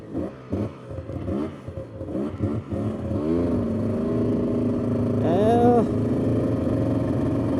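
A Yamaha Vmax 700 triple snowmobile engine sputters and stutters unevenly at first, then settles into a rougher steady run around 1100 RPM with a brief rev near the end.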